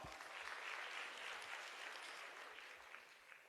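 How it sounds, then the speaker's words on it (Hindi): Quiet crowd applause for Dr. Amit Dubey and Ashwini Dubey at a gathering, a steady wash of clapping with no voices, holding evenly for a few seconds. "डॉक्टर अमित दुबे गुरुदेव के लिए और साथ ही साथ में अश्विनी दुबे गुरुदेव के लिए जोरदार तालियां।"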